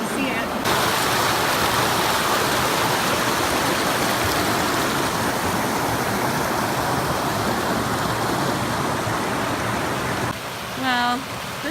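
Waterfalls on the French River pour in a loud, steady broadband rush that fills the scene, with a brief voice breaking in near the end.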